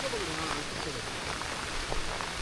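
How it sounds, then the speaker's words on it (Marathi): Rain falling steadily in the Sahyadri forest on the Kolhapur–Ratnagiri border, a soft even patter on leaves and ground that is fairly faint and constant, with a voice speaking over it. "आता खालच्या पायवाट पण नाही दिसत आहे आणि पाऊस पण आहे."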